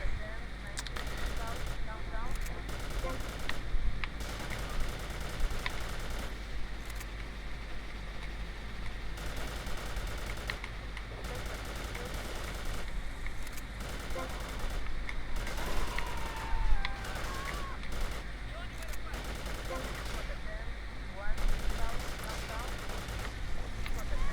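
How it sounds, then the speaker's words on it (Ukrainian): Bursts of gunfire in GTA Vice City Definitive Edition crackle through a busy, continuous mix of game effects and music, with a few louder shots standing out. "Тобто я так розумію, що мені треба все стріляти."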